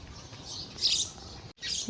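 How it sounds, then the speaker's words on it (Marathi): Sparrows chirp on house steps in short bright bursts, a few quick tweets close by with a brief gap before more chirping. "ह्या बघा आमच्या चिमण्या चिमण्या चिमण्या चिमण्या चिमण्या पायऱ्यांवर"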